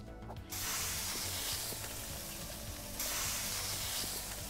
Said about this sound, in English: Now we gotta grill a red pepper.